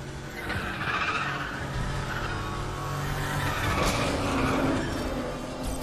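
A car in the racing game Need for Speed: The Run is driven in a circle, its engine droning steadily under continuous loud tire squeal and skidding, with no voices.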